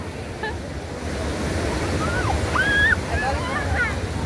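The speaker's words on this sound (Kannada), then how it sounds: "ಏನ್ ಅಲೆಗಳು ಅದೇನೆ" Water waves surge and wash steadily, a broad rushing roar with wind buffeting, while people talk and exclaim over it.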